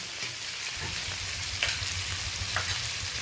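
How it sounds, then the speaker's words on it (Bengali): Onions and spices sizzle and crackle in a hot pan, with the soft scrape of stirring, steady and close, no voices. "পেঁয়াজ সমস্ত মশলার সাথে নাড়তে নাড়তে বেশ ভাজা ভাজা হয়ে গেছে"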